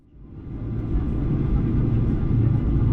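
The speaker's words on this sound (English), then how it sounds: "Now please enjoy this unedited takeoff." A Virgin Australia airliner's engines build to a steady, heavy roar during takeoff, swelling over the first second and then holding a loud, continuous rumble with no voices.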